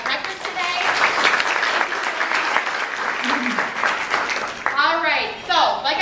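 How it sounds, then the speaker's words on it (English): A seated crowd gives sustained applause to thank a local sub shop and coffee business for providing breakfast, with steady clapping throughout and a few voices rising near the end. "let's give a round of applause for Sub King Deli and Coffee Emporium."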